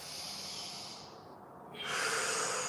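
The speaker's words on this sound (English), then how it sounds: "This is meant to be a breathing exercise" Breathing during a guided breathing exercise, a soft sustained exhale followed after a short pause by a stronger inhale, close and fairly quiet, without talking.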